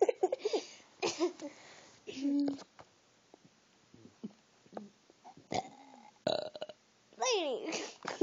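Loud, drawn-out burps alternate with children talking and laughing during a playful burping and farting contest, several bursts spaced irregularly across the stretch.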